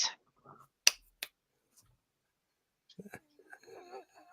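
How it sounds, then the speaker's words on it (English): Two sharp finger snaps, close and crisp, spaced about a third of a second apart, followed after a pause by someone talking. "Can you snap your fingers twice?"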